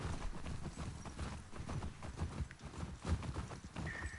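Horse hooves clip-clop steadily on a track in The Last of Us Part II, a rhythmic run of close, fairly loud hoof strikes over a dense ambient bed, with a brief higher tone near the end.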